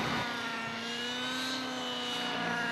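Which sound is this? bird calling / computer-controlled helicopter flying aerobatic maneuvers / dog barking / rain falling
computer-controlled helicopter flying aerobatic maneuvers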